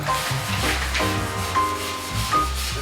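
A Scotch Brite scuff pad is rubbed over an old car's body panel during restoration, giving a close, steady scratchy rubbing with repeated back-and-forth strokes under a low background hum.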